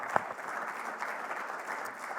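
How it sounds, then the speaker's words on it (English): Audience applause at a methamphetamine treatment breakout session of a research symposium, a steady, moderately faint wash of many hands clapping continuously throughout, with one sharper clap near the start. "A round of applause."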